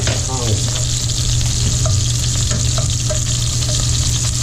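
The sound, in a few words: shrimp and sausage frying and being turned in a pan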